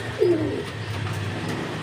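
A single soft pigeon coo near the start over a steady low hum of room noise in a pigeon loft.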